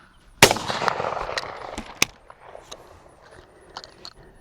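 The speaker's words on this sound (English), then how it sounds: "Gun kind of sounds funny in earmuffs." A shotgun fired at a clay target during training for a US FITASC Grand Prix, heard muffled through earmuffs: one sharp close blast, then a second shot and a few fainter pops in the outdoor quiet.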